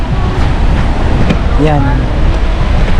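Strong wind gusts roar and buffet steadily by a riverside where boats are moored, a loud continuous rush with a person speaking briefly over it.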